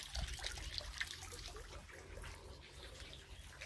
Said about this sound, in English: So every day, as soon as the sun comes out, the water is flowing into this pond.